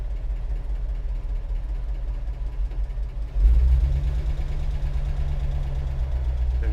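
A 1956 Ford F-250 truck engine idling with a low, knocking rumble, then revving up abruptly into a louder, steady drone as the truck sets off on the road, heard close and alone.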